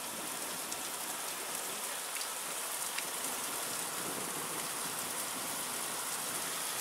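Hailstones pelt down during a 2014 thunderstorm, a dense steady hiss of countless impacts with occasional sharper ticks close by, continuous and even with no talking.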